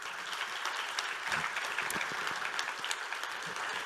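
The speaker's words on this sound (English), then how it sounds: "a round of applause" A crowd claps enthusiastically after a conference keynote, a dense and steady round of applause with scattered sharper claps throughout.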